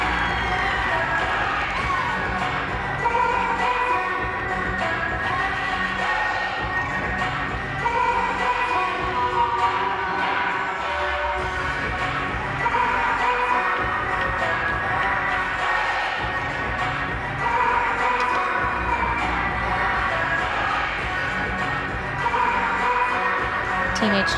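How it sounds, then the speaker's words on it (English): Gymnastics teammates cheering from the sidelines at a Kentucky at Missouri meet, with a continuous crowd roar of shouts and cheers in a busy arena. "Teammates cheering Sienna on from the sidelines."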